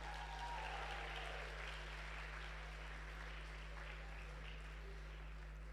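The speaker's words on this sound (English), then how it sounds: "I want everyone to applaud these accountability groups right now." Audience applause at a conference session on building and monetizing a personal brand: a soft, steady wash of clapping that continues evenly for several seconds, distant and faint.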